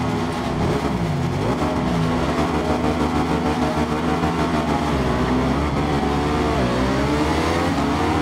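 A motorbike engine in the racing video game Ride 5 revs and accelerates continuously, its pitch climbing, dropping through gear changes and rising again, loud and close with no talking.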